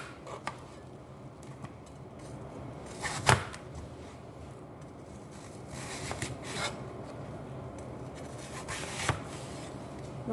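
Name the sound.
knife cutting peeled apple into eight pieces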